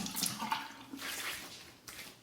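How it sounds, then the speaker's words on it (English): Cold water runs steadily from a bathroom tap during a final rinse after a shave, a soft, continuous splash and gush that stays fairly quiet and close, with no voices. "Final rinse with the cold water"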